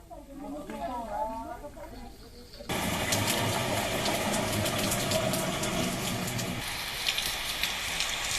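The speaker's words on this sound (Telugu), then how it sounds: "శ్రీకాకుళం జిల్లా పలాసలో భారీగా కురుస్తున్న వర్షాలకు వరద నీరు పోటెత్తడంతో" Heavy rain pours down in Palasa town, Srikakulam district, after a voice at the start: a dense, steady broadband roar of rainfall, loud and continuous to the end.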